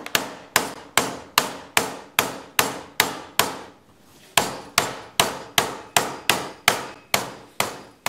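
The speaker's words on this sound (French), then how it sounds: "je vais commencer à marteler tout autour pour marquer l'endroit des bords" Hammer strikes on copper sheet as a bowl is shaped, about fifteen sharp metallic blows in a steady rhythm with a brief pause midway, close and loud with no talking.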